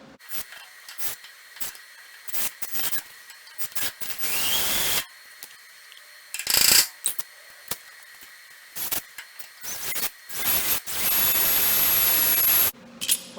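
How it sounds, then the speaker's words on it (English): Smaller drill bit boring holes into both sides of a derecho-damaged trailer panel, in repeated short bursts and longer runs of high, gritty drilling with pauses between, close and fairly loud. "Now we can use a smaller bit and start our holes on both"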